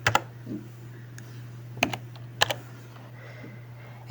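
A few sparse, sharp keystrokes on a computer keyboard as a terminal command is typed on a Red Hat Enterprise Linux machine, with a steady low electrical hum underneath and no speech.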